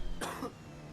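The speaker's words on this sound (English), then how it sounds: "I'm trying to cough up everything I can before we get to the final straight then" A single short cough from a race commentator during a sim racing broadcast at Imola, one brief throaty burst close to the microphone, then quiet.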